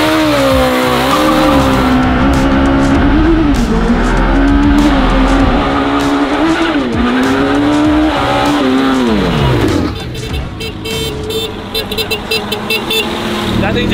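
A mini truck fitted with a sport motorcycle engine races hard, its high-revving engine whining loud and close with rising and falling pitch, then tires squealing and skidding toward the end, with people talking over it.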